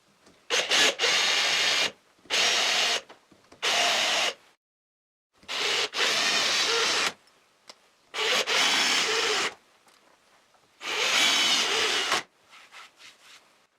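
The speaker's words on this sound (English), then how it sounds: "I'd better countersink the holes so the screw heads don't stick out." A power drill countersinks screw holes in wood in several loud bursts of steady grinding, each a second or two long, separated by short pauses.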